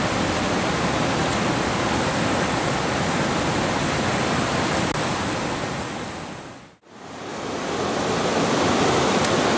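Waterfalls on a river roar in a loud, steady, close rush of broadband water noise, briefly dropping out near the end before returning at full strength.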